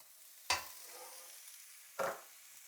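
Garlic goes into a frying pan with a quiet background sizzle and two distinct scraping bursts of stirring about a second and a half apart.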